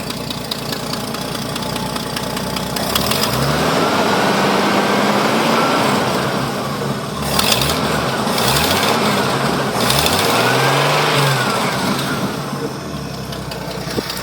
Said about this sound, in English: I'll go ahead and rev it a little bit so you can hear what it sounds like